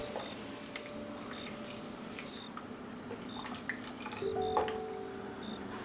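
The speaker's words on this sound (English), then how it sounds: "Let this boil for a few minutes." Coconut blend boiling in a pot of chicken rice, soft bubbling, drips and liquid pops over a low kitchen background, quiet and close without talking.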